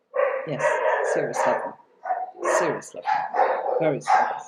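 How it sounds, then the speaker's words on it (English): A pet dog named Sultan barking in repeated clustered bursts nearby, mixed in with a person talking over it. "I'm sorry about my dog's barking."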